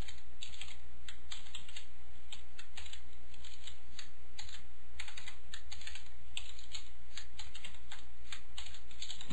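Rapid clicky typing on a computer keyboard, a continuous stream of keystrokes with short pauses, close up and steady.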